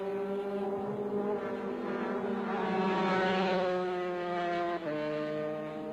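A two-stroke 150cc racing motorcycle screams around a circuit, its high buzzing engine note rising steadily through the gears, then dropping sharply at a shift near the end, fairly distant and sustained.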